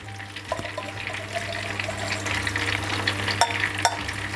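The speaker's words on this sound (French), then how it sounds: "on va attendre que le beurre soit noisette" Butter browns in a pan with soy sauce, vinegar and ketchup, giving a steady close sizzle and bubbling with a few sharp crackles and pops, no voices over it.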